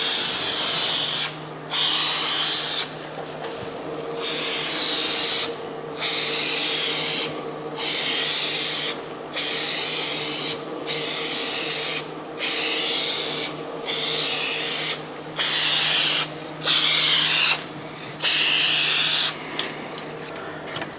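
A spray gun lays clear coat on a repaired rusted car fender in a series of loud, steady hissing bursts of about a second each, separated by short pauses, alone and close.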